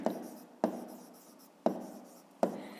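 Pencil writing on paper, four distinct scratchy strokes at uneven intervals, close and quiet, with no voice.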